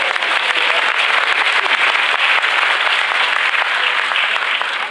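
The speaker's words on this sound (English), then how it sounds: "Timed it with the applause, so" Audience applause at a centenary launch event for the Norfolk Women's Institute, a loud, sustained clapping from a crowd that holds steady throughout.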